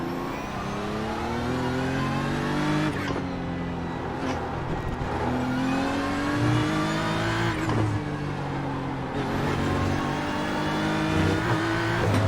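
A GT3 race car in the iRacing simulator at Okayama circuit roars loudly and continuously, its engine climbing in pitch through several revving pulls with distinct upshifts breaking each rise.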